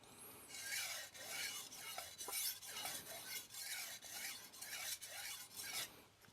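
A knife slides across a 3000 grit vitrified diamond whetstone in steady back-and-forth strokes, giving a bright, even rasping close up with light pressure and no voice.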